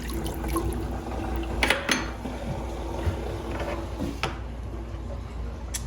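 Water drains steadily from a newly installed kitchen sink after the plug is pulled in a new cabin build, a continuous close rushing and gurgling wash with a couple of brief clunks partway through.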